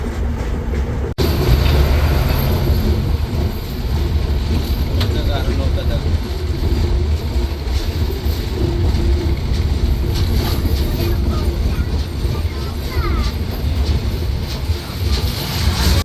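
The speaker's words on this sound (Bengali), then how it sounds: "ট্রেনটি যমুনা সেতু পূর্ব রেল স্টেশনে খুব অল্প সময় যাত্রা বিরতি দিয়ে ছুটে চলেছে তার পরবর্তী যাত্রা বিরতি স্টেশন টাঙ্গাইলের উদ্দেশ্যে" The Chitra Express passenger train, travelling from Khulna to Dhaka, pulls away from Jamuna Bridge East station with a loud, steady rumble and rhythmic clatter of wheels on rails, while a voice talks over it.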